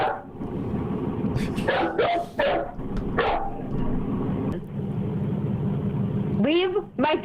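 A dog barks in a few short bursts around the middle of the clip, mixed in with someone talking loudly nearby and steady low background rumble.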